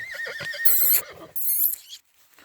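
A horse whinnies in two high, quavering bursts, fairly close, then fades into near silence.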